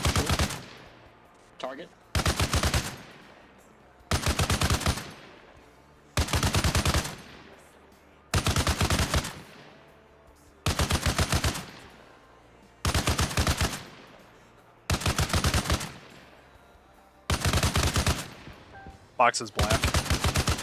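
Machine-gun bursts from an Arma Reforger firefight aimed at an MG nest turret by a blue building: about nine loud, close sustained bursts of rapid fire with short pauses between, and brief radio-style talk in the gaps.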